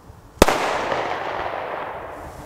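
A single Tiger Bomb firecracker goes off with one sharp, loud bang, followed by a long fading crackle and rumble that trails away over a couple of seconds.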